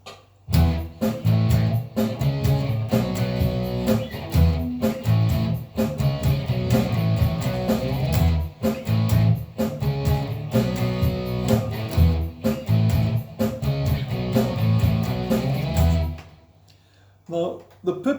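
An electric guitar plays a power chord riff, loud and steady with rhythmic chord strikes, then it stops near the end and leaves near silence.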